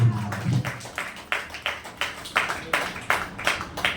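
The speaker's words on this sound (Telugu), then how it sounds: "గట్టిగా చప్పట్లు కొడుతూ" A church congregation at Sunday worship claps loudly in a steady, evenly spaced rhythm of sharp claps that carries on throughout.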